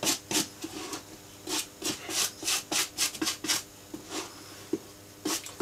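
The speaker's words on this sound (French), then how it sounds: "on va commencer dans un premier temps par passer la brosse à dents" Toothbrush scrubbing dirt off a suede shoe, a brisk series of close, dry bristle strokes in uneven rhythmic bursts with brief pauses between them.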